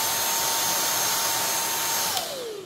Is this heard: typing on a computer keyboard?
no